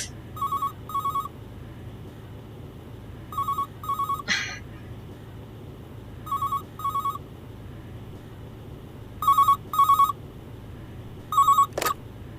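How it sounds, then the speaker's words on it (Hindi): A telephone rings in repeated short double bursts, clear and fairly loud over a low steady hum, with several rings spread across the stretch and no talking. "टाइम पे कौन फोन करता है?"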